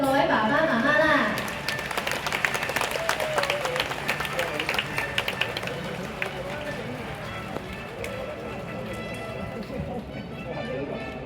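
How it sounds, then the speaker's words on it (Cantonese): Parents clap in sustained, dense applause at a kindergarten graduation ceremony in a hall, with a voice speaking over the crowd at the start. "請大家俾啲掌聲，各位爸爸媽媽啦"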